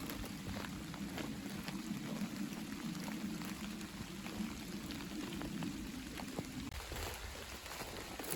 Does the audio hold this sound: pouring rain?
yes